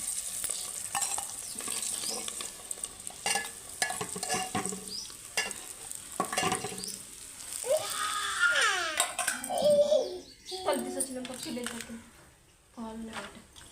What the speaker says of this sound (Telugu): ఉల్లిపాయలు యాడ్ చేసుకుంటున్నానండి ఉల్లిపాయ అయితే వేగిందండి